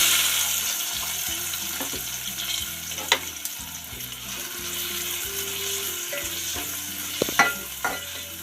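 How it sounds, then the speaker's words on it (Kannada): Onions frying in oil left over from frying eggs for an egg masala curry, a steady sizzle with repeated stirring and scraping sounds and a few sharp clinks of the spoon against the pan, close and continuous with no voices. "ಎಣ್ಣೆಯಲ್ಲೇ ಈರುಳ್ಳಿ ಹಾಕಿ ಫ್ರೈ ಮಾಡ್ತಾಯಿದ್ದೀನಿ"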